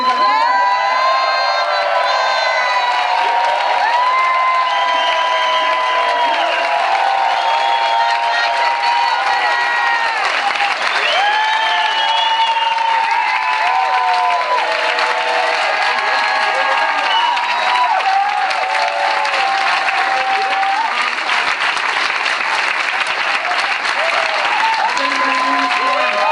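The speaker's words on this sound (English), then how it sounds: "A massive standing ovation, round of applause for Maurice and Jonathan." A large audience gives a standing ovation, sustained loud applause mixed with cheering, whoops and shouts that hold steady throughout, dense and continuous with no talk over it.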